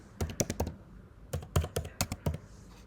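Typing on a Mac computer keyboard to enter terminal commands: two close bursts of crisp key clacks separated by a short pause, clear and alone.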